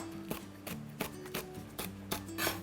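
A knife chopping green chili peppers on a cutting board: about seven crisp, evenly spaced thuds, close and moderately loud, over a steady low hum.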